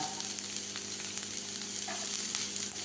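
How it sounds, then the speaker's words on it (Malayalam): Two or three garlic cloves and a small piece of ginger fry in a pan with a steady, close hiss and crackle of sizzling oil, with no talking. "2-3 അല്ലി വെളുത്തുള്ളി, ഒരു ചെറിയ കഷ്ണം ഇഞ്ചി, ഇതൊന്ന് മൂത്ത് വരട്ടെ കേട്ടോ."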